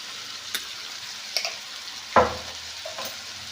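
Stirring a cucumber fry with turmeric in a pan: soft scraping and stirring over a faint sizzle, with a few light utensil knocks and one sharper clank against the pan.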